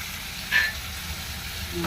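Small lemon-sized lump of tamarind sizzling in a hot pan, a soft steady frying hiss with a brief louder crackle near the start, close and fairly quiet.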